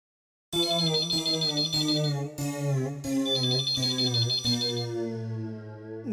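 An intercom telephone in an office rings with a repeating electronic trill in two long bursts, loud and close, with no voices over it.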